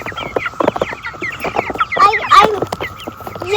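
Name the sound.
chickens clucking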